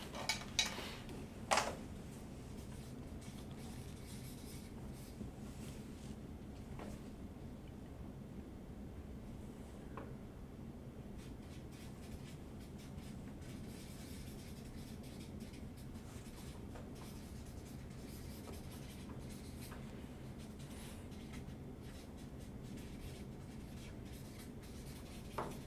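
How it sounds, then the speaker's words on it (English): Marker strokes on a board in a quiet meeting room during a mediation session: faint, intermittent scratchy squeaks with a few soft taps, no voices. "I'll now write them on the board"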